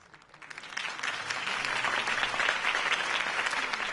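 A crowd applauds after Harvey Dent's campaign speech in Batman: The Telltale Series, clapping swelling quickly from quiet into a steady, dense ovation that holds to the end.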